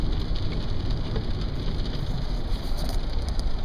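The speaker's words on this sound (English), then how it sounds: "The rain's kind of cool." Rain falls steadily on a wet race day at a motorbike TT track, a dense even hiss with wind noise, continuous and fairly loud, no voices.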